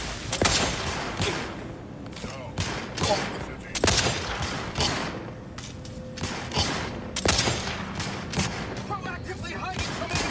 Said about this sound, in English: Proactively hiding from enemy fire.